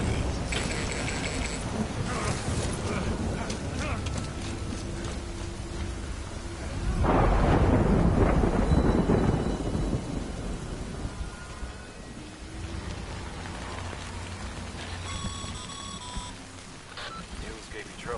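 Rain falls steadily in the video game Death Stranding, with a deep rumble of thunder swelling midway and fading out, and faint game tones beneath.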